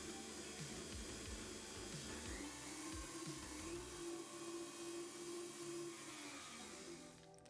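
An electric mixer whisks eggs at maximum speed while making honey and lime madeleines, giving a loud, steady high-speed whir with rhythmic clunks of the beaters against the bowl before it winds down at the end.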